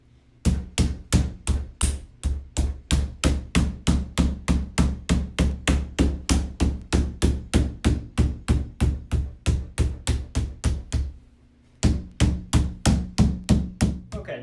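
Mallet tapping chicken cage parts together during assembly, a long steady run of sharp, evenly spaced knocks, loud and close, with one brief pause before the tapping resumes.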